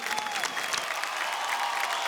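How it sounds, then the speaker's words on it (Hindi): Steady clapping from a television show studio audience, fairly faint and distant, continuing evenly throughout. "और मैं चाहूंगा कि भाई जोरदार तालियां हो जाएं"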